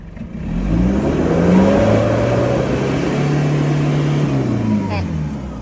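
An older Isuzu D-Max engine revs up and holds near 4500 rpm with the accelerator floored, a loud sustained drone rising then steady before dropping off at the end, with no talk over it.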